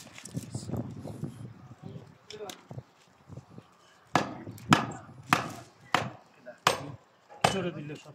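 Butcher's cleaver chopping dumba (fat-tailed sheep) meat on a wooden block: a run of sharp, loud, evenly spaced thwacks, about six in the latter half, after quieter handling and a voice talking at the start.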